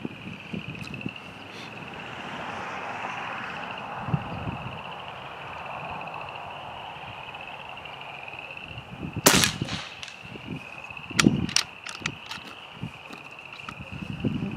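An Umarex Gauntlet .25 air rifle fires pellets outdoors at 26 yards, giving two sharp, short cracks several seconds apart over a steady insect drone and faint wind and rustling.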